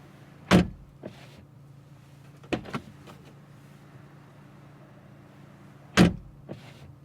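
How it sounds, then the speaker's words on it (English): Car doors on a 2025 BMW M235 Gran Coupe slam shut in two solid thuds several seconds apart, with a softer pair of closing clunks in between, all in a quiet setting. "Alright, so let's close the doors."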